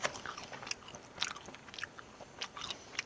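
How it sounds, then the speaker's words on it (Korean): Close, crunchy biting and chewing of chewy octopus pieces on top of takoyaki, in irregular bursts of wet mouth sounds with no talking. "문어가 아주 쫄깃쫄깃하군요"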